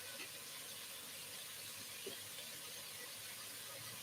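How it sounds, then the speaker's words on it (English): Leeks sizzling in a pan as the base for a squash risotto, a steady, fairly faint hiss of frying with soft crackles, no talking. "just a second to appreciate this beautiful sizzle and the colors happening here."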